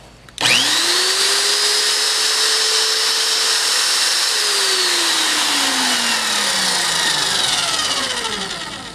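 A magnetic drill starts abruptly and runs steadily at high speed, its motor whine rising then slowly dropping in pitch over several seconds, loud and close.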